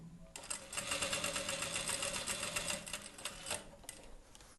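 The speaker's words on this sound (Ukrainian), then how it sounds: "Розвертаємо нашу роботу і прокладаємо з'єднувальну строчку." A sewing machine runs steadily, stitching a joining seam on a fabric Easter bread plush toy, with a fast rhythmic mechanical chatter that starts abruptly and continues for several seconds close by.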